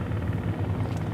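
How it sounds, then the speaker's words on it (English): The continuous thudding rotor beat and engine drone of a small helicopter landing at Boeing Field, close and loud, with no break across the whole moment. "Look at this fun little helicopter we've got landing here"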